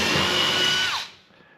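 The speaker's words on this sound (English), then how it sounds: "This is a depth stop countersink." A power drill fitted with a depth stop countersink bit bores into plywood wall panels in a woodshop, whirring loudly for about a second, then winding down and trailing off.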